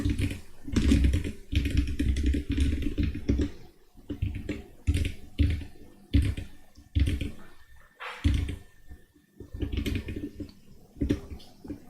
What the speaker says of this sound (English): what you're typing